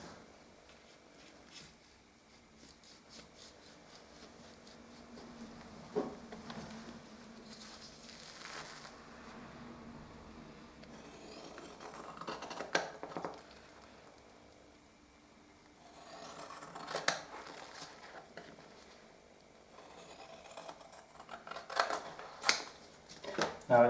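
Scissors cut along the top edge of wallpaper hung around a feature fireplace, giving faint, scattered rasping snips and paper crinkles at a low level, with no talking.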